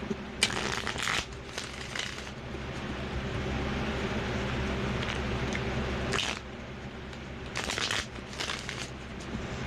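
Elemental Wisdom Tarot cards being shuffled close up, with bursts of crisp riffling and flicking separated by softer sliding and handling of the deck.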